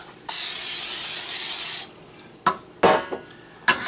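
A continuous hiss of cooking oil spray lasts about a second and a half, followed by a few light clunks.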